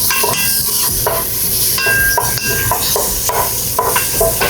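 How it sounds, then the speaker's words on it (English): Sausage sizzles loudly in a hot pan as a utensil scrapes and stirs it in quick, repeated strokes. "you just stir vigorously to get the sausage all ground up"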